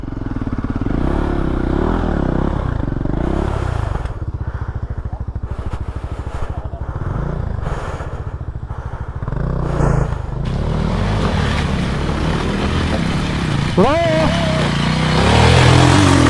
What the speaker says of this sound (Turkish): İki motor geçti.